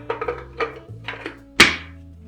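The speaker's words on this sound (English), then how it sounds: "Go ahead and close the tank." The lid of an Essex 35 daylight film developing tank shuts with one sharp, close thunk, following a few softer handling knocks and rattles.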